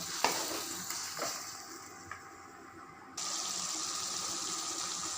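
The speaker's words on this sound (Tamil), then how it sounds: "அரைச்சி வச்சுருக்கிற கொத்தமல்லி பேஸ்ட்டை உள்ளே ஊற்றிக்கலாம் இது வந்து எண்ணெய் பிரிஞ்சு வர வரைக்கும் நல்லா வதங்கணும்" Onions and coriander paste sautéing in oil for green pulao, a low steady sizzle with a few scrapes of stirring, then a louder, brighter hiss midway as the frying intensifies, no voices.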